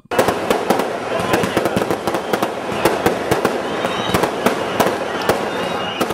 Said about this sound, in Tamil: விழாவை முன்னிட்டு வான வேடிக்கைகளும் நடத்தப்பட்டது